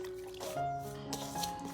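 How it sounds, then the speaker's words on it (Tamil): Water is sprinkled a little at a time onto ragi flour while it is mixed for puttu, giving soft wet drips and squishy dabbing sounds in short, irregular bursts, fairly close and without speech. "கொஞ்சம் கொஞ்சமாக இப்படி தண்ணி சேர்த்து மாவு பிசையவே"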